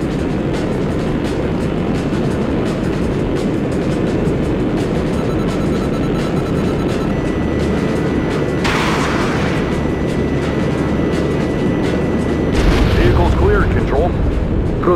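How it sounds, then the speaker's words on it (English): Weapons fire and explosions in the flight combat game Jane's Advanced Strike Fighters, a dense, continuous rumble of booms and blasts at steady loudness with a couple of sharper hits near the end. "Razor, perhaps you'd like to test the weapons capability of your plane"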